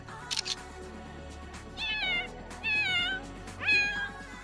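A cat in The Sims 4 meows three times, each a rising, drawn-out call spaced about a second apart, over a steady game music and ambience bed, with a couple of brief clicks at the start.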